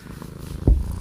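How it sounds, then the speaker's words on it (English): A cat that has just woken from a nap purrs, a low rumbling buzz up close, quiet at first and then swelling into a stronger burst near the end of the brief stretch. "She always likes to give me a purr session after the nap."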